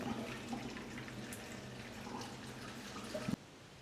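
Steady water pouring and splashing into a container, a continuous wash of noise that cuts off abruptly near the end.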